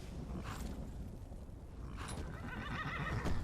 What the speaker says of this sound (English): E ganhamos um cavalo novo